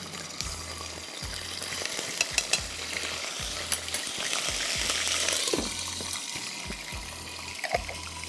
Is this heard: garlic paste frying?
yes